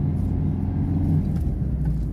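A driving-exam car slows over speed bumps by dropping into second gear, giving a close, steady engine rumble with slight shifts in pitch and no talk.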